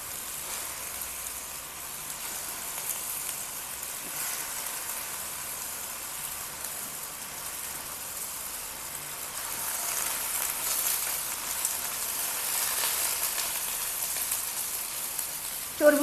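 Mutton pieces sizzle in a fried spice paste with a soft, even crackle like light rain that grows a little louder in the second half, ending with a sudden brief clatter.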